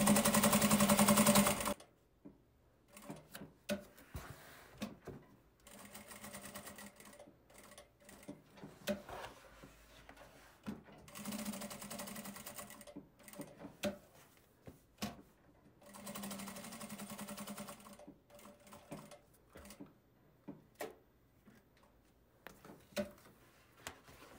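Stitching an X on a bag strap, a sewing machine runs in several short bursts of rapid mechanical whirring, separated by quiet pauses and scattered small clicks and handling noises.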